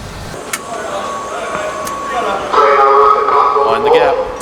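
Train noise at a station: a steady rumble with clanks and a rising electric whine as the train moves, under a nearby voice.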